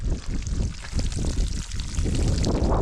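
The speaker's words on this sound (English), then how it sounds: "it's a really, really cool source of clean water" Clean, ice-cold mountain spring water trickles and pours steadily close by in the Mourne Mountains, a continuous broadband splashing rush that swells slightly toward the end, with no talk over it.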